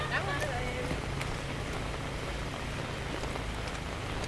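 Heavy rain pours down beside a canal, a dense steady hiss of drops on surfaces filling the whole stretch, with a voice speaking over it.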